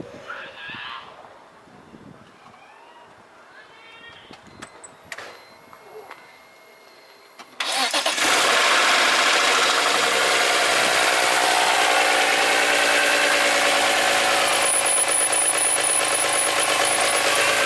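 A 1JZ-swapped car cranks and fires after a quiet stretch, then settles into a loud, steady idle that fills the rest of the clip close to the microphone.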